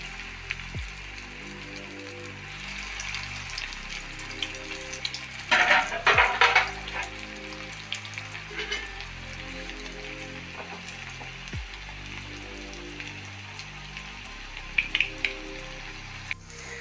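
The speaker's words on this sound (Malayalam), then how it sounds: "അത് ഞാൻ ഓയിലിൽ ഫ്രൈ ചെയ്യാനായിട്ട് പോട്ടെ." Egg cutlets sizzle steadily in hot oil in a pan, a close, continuous crackling hiss with a few sharper bursts of spatter, and a low hum underneath.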